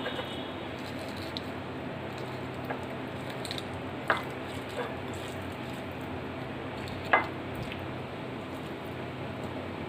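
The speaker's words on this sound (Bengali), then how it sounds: "এখন মিষ্টি কুমড়োগুলো ভর্তা করে নেব।" Fried sweet pumpkin is mashed by hand with onion, chili, salt and mustard oil, giving soft, low squishing under steady background noise with two brief sharp clicks.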